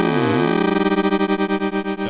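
A buzzy synthesizer tone, double-modulated through the VCA, with a pitch sweep at the start, then pulsing rhythmically in fast, choppy amplitude throbs that speed up slightly.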